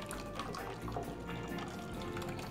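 Liquid chile morita sauce is poured back into a cooking pot, a soft continuous splashing and trickling that stays close and fairly quiet throughout, with no talking.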